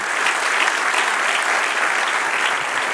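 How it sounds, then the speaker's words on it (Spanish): Dense, steady applause from a church congregation honoring the Lord, a thick wash of many hands clapping at constant loudness throughout, with no break or fade. "Denle un aplauso al Señor"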